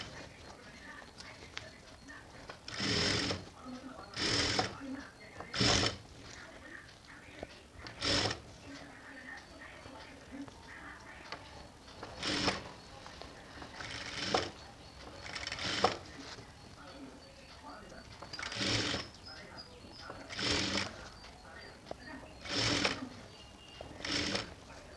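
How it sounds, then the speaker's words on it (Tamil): A sewing machine stitches a natural jute hand purse in short bursts of rapid whirring, about a dozen runs separated by pauses, close and moderately loud, with quiet talk in between. "பிரிச்சுட்டு இன்ச்சில் வச்சு தையல் ஓட்டிக்கங்க."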